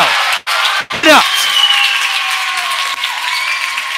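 A college men's basketball crowd applauding and cheering after a dunk in a gym, loud sustained clapping and crowd noise under a commentator's voice.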